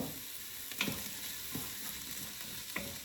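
Garlic frying in a pot while kale and chickpea soup is made, a soft, steady sizzle with a few faint clinks and stirring taps, quiet and close, with no voices.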